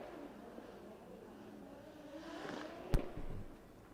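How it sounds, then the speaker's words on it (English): A drift car at a championship event in Oman pushes its front end and scrubs the front tyres, engine droning and rising before a sharp close thump and a brief revving burst. "So we see him just pushing the front of the car, scrubbing them front tyres, trying to get some heat in there."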